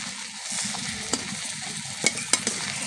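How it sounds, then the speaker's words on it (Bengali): Oil bubbling hard in a wok (kadai) with prawns frying, a steady hissing sizzle with a few sharper pops and crackles near the end, close and moderately loud with no talking. "একদম ফুটে উঠেছে তেলগুলো।"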